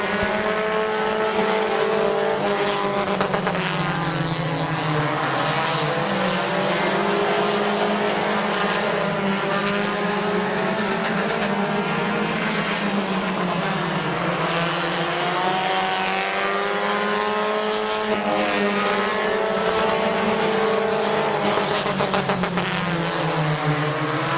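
Race cars howling around the Midvale Speedway oval, several engines droning loudly together with rising and falling pitch as they pass, a continuous roar for the whole stretch.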